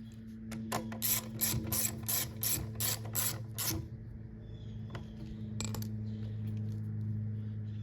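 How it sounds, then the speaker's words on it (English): A ratchet wrench tightens a small bolt on a Honda engine, a run of quick metallic clicks in an uneven rhythm up close, followed by a pause and one more short burst of clicks over a low steady hum. "Put in this last small bolt towards the top."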